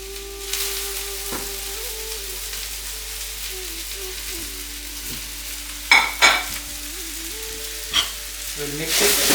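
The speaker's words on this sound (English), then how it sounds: "will saute little bit all the vegetables, and after that I add the noodles" Vegetables and noodles being stir-fried in a pan for Indo-Chinese veg hakka noodles, with a steady low sizzle, a few sharper stirring scrapes near the end, and a soft tonal backing throughout.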